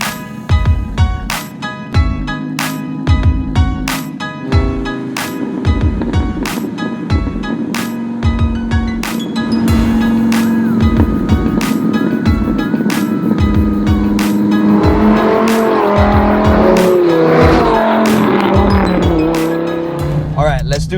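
A Honda S2000 with a swapped V10 engine driven hard, loud and close, its engine revving up and dropping back again and again through gear changes, with tire squeal in the latter part and a voice talking over it at times.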